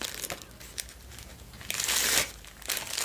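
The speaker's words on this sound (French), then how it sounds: "Je prends mon petit papier, petit mouchoir." A small paper tissue crumpled by hand during a cosmetics unboxing, close-up crinkling in soft bursts that swell into one longer, louder crush before trailing off.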